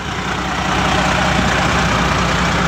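A 2007 Coronado truck with a Detroit 60 series engine idles close by, giving a steady, loud diesel rumble that holds unchanged throughout with no talk.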